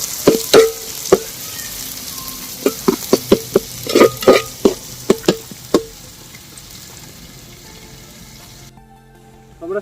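Small shallots sauté in a pan for a fish head curry, with a run of quick spatula knocks and scrapes over a gentle sizzle that fades out, leaving near silence at the end.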